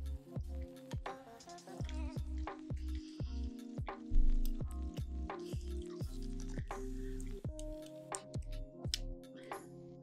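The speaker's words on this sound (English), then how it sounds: "And you want to get that into a lather." Face cleanser is worked into a lather between wet hands, giving close, quiet, rapid squishing and small wet clicks in an irregular rhythm over a steady low hum.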